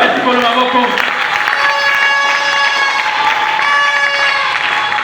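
A French-speaking church congregation cheers and acclaims together during a sermon, a loud sustained crowd of raised voices with ringing sung or shouted tones for about five seconds.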